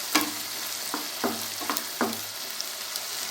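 Peeled, finely chopped ginger sautés in a pan for tomato chutney, a steady sizzle broken by four or five quick scraping stirs of a spoon at an even pace, close and clear.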